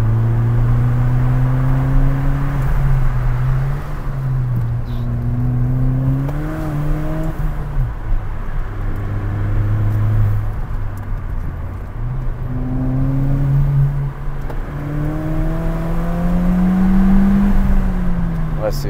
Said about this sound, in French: Ouais, c'est vraiment étonnant l'amplitude du moteur.